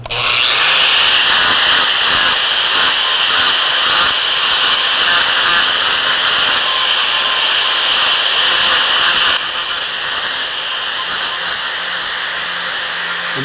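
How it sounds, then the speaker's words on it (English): An angle grinder fitted with a red Camel surface preparation wheel works aluminum, a loud steady high-pitched whir with abrasive hiss running continuously for about nine seconds, then dropping slightly in level near the end. "let's throw that on the grinder"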